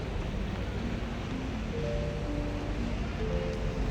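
Strong wind gusts roar across an open rocket launch pad at a desert spaceport, a steady loud rushing buffet against the microphone with faint tonal hums underneath.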